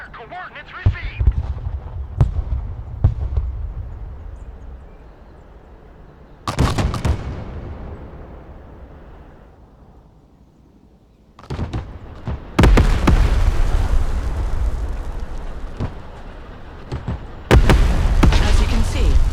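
Artillery rounds in the Broken Arrow war game land as a string of sharp, heavy explosions, some close and booming, each trailing into a rumble, with quieter stretches between and brief radio-style voice chatter.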